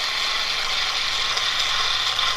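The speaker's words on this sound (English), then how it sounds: "Got a clockwork motor. So you just wind her up," A wound-up 1911 clockwork home movie camera for 9.5mm film runs steadily, giving a continuous close mechanical whir and buzz with a faint ticking texture, without talk.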